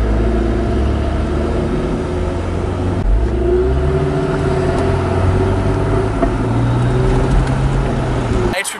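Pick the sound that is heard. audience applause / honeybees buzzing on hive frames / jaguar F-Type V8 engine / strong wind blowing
jaguar F-Type V8 engine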